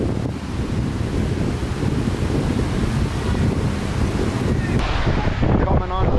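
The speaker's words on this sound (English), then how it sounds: "Coming onto the beach, it is windy today." Wind and surf on Boracay beach in the Philippines on a rough, windy day, a steady roar of breaking waves and wind buffeting the microphone throughout, loud and continuous.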